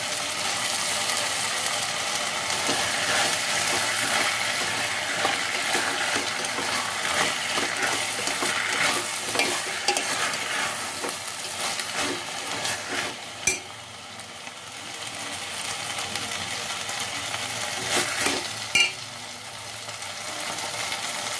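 Paneer, potato and pea gravy masala fries in a pan, a long close sizzle with intermittent scraping and stirring clicks, its loudness dipping briefly partway through.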